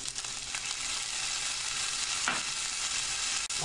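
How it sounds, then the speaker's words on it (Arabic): Broccoli tipped into a hot pan for a beef teriyaki dish, with loud continuous frying sizzle and scraping stirring throughout, close and steady, with one brief dip near the end. "هلا رح اوضع البروكولي"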